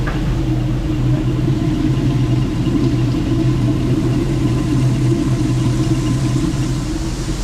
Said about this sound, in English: There's a rough stone in there with a bump on it, and it spins round and round, makes all the taters jump up